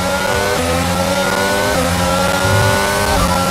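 Car engine audio in the F1 22 racing game, glitching: a steady, loud synthetic engine drone with layered tonal harmonics that shift abruptly in pitch, continuous for a few seconds without speech.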